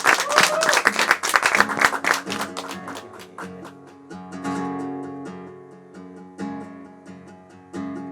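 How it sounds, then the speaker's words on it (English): An audience at a live music room session breaks into a round of applause, dense clapping loud at first, then thinning and fading as sustained musical tones and a few scattered claps linger. "Everyone, let's give him a big round of applause"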